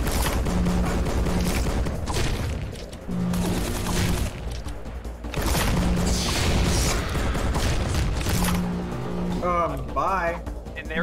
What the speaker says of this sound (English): he's just gonna shoot you with a shotgun